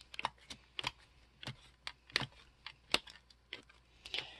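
Store-bought pie pans being folded to pull out their plastic, heard as a run of short, crisp crinkling clicks close by at an uneven pace.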